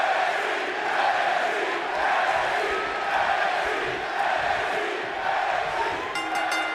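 A large arena crowd in a WWE 2K wrestling game roars and chants "NXT" in a steady, dense wall of noise, loud and continuous throughout.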